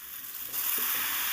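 A vegetable and small rohu fish curry sizzles as it is sautéed in a pan, a steady close frying hiss that grows louder partway through, with no voices.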